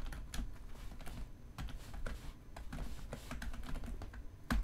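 Typing on a computer keyboard, a close run of quick, uneven key clicks with one heavier final press, no voices.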